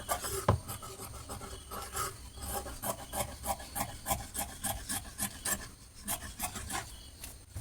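Scissors snipping notches into the seam allowance of freshly stitched fabric, a steady run of short, crisp cuts repeating close by with no talking.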